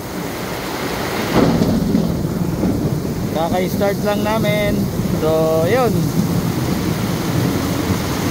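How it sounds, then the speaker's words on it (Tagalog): Steady heavy rain roars throughout, a dense broadband wash with a low rumble underneath, while a person talks briefly over it. "inabot kami ng ulan"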